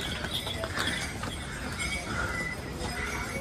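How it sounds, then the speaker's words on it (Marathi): Horse walking past on a steep mountain pilgrimage trek in Uttarakhand, its hooves clip-clopping with faint clinks amid busy outdoor crowd noise and background voices. "हा एक घोडा आलेला आहे."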